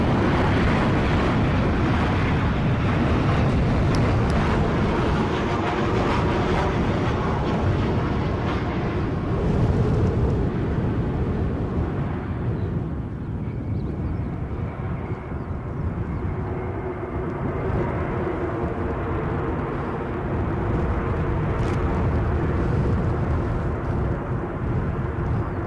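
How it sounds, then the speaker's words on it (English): A Ryanair Boeing 737-800 from Eindhoven comes in to land in gusty wind at Edinburgh, a continuous broad jet roar mixed with wind buffeting on the microphone, swelling and easing over about 25 seconds. "a Ryanair 737-800 from Eindhoven, departed 1 hour 10 minutes ago, just about to get the wheels going"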